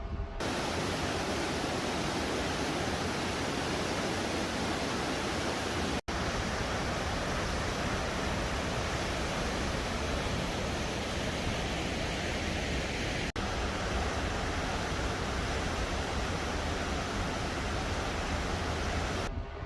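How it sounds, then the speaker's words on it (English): Natural Bridge Falls, a small waterfall pouring out of a mountainside, roars as a dense, steady rush of water heard close and alone throughout. "I want to show you one of the waterfalls that he took us to"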